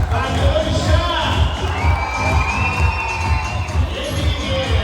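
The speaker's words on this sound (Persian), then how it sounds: "هرشا بلندتر فریادا بیشتر" Crowd at a dolphin show shouting and cheering loudly and continuously, with children's high-pitched whoops and yells rising above the roar.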